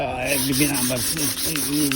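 Continuous rough scraping of sandpaper rubbing over wood, close and steady with a back-and-forth rhythm and no talking.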